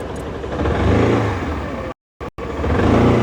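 A car engine while driving on a forest road, a steady loud droning hum with road noise that cuts out briefly for a moment before resuming, with no talk.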